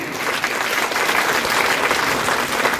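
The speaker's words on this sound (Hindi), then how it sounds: "तालियां बजाएं भी एक बार" Steady, dense applause from an audience fills the room at a quiz competition held for Gandhi Jayanti, continuous and loud throughout with no pauses.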